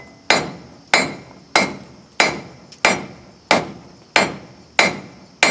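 A forging hammer strikes hot steel on the edge of an anvil while shaping the jaws of blacksmith's tongs, ringing out in loud, close, evenly spaced clangs with a bright metallic ring after each blow, about nine strikes with no speech.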